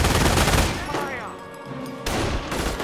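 Gunfire in the video game Company of Heroes, a dense volley of combat shots in a World War II setting, loud and close, with a lull mid-clip before another burst, with voices mixed in.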